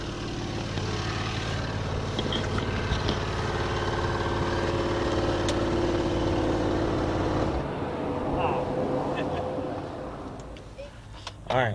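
A small gasoline range extender engine in a 2014 BMW i3 REx runs with a steady low drone under the cabin, continuous for most of the stretch before fading near the end.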